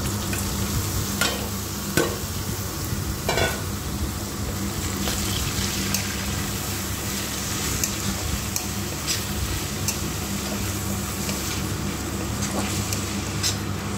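Rice stirred and fried in oil in a pan, a continuous close sizzle broken by repeated scraping and clinking strokes of a spoon against the metal.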